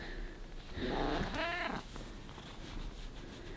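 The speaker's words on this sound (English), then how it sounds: "The healthiest little cat there ever was." A 16-year-old fluffy cat purrs close by, a soft steady rumble that swells for about a second in the middle, then fades into quiet room tone.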